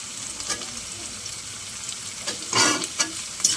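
Red and green capsicum stir-fried in a home kitchen pan, a low steady sizzle with occasional louder stirring scrapes and spatters toward the end, close by and without speech.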